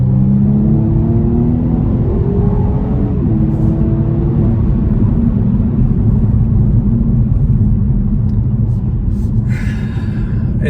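From inside a 2021 BMW M135i, the engine drones loudly as the car accelerates, with a rising tone early on that settles into a constant heavy rumble and road roar.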